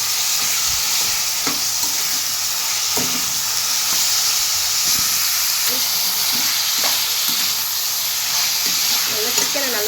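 Curry leaf chicken gravy sizzles and fries in a pan, with a steady hiss and occasional stirring scrapes over it throughout.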